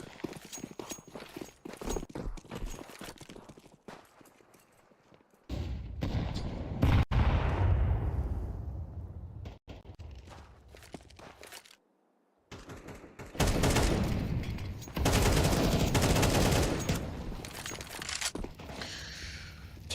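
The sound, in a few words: MP9 gunfire in video game Counter-Strike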